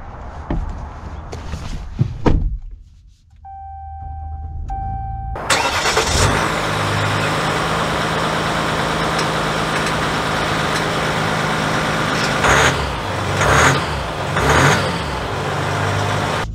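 A 2023 Ram 1500 Laramie Night Edition EcoDiesel truck cranks and fires up after a few brief clunks, then settles into a loud, steady diesel rumble that swells a few times as it pulls away, heard from inside the cab.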